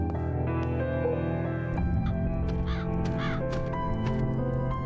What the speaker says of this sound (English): And that freaks all the birds out.